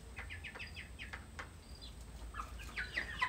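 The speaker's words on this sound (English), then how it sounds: "I'm just hanging out here with my chickens." Chickens in a farm barn give soft, repeated clucks and short calls throughout, fairly faint and at moderate distance over low background rumble, with no talking.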